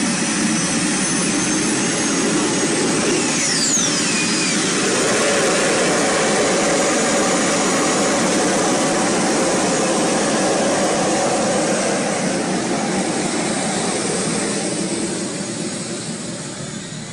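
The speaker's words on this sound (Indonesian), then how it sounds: "suaranya yang dihasilkan sangat nggak ngotak dan memang lebih mirip seperti suara pesawat" An MTT Y2K turbine superbike's jet engine runs at a loud, sustained roar, a broad aircraft-like whoosh with a thin whine that sweeps in pitch early on, holding steady and easing slightly near the end, with no voices.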